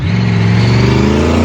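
A supercharged Ford Shelby GT350 with side exit exhaust pulls away up Portsdown Hill at a car show, its engine loud and close with a deep, rising drone as the revs climb steadily.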